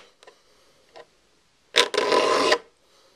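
A file rasping across hand saw teeth during sharpening: two faint short strokes, then one loud, close, sustained gritty stroke of about a second, with quiet between.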